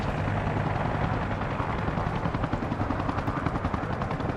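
Mi-24 attack helicopter in the video game Arma Reforger, a loud, steady rotor roar with a rhythmic blade chop pulsing throughout.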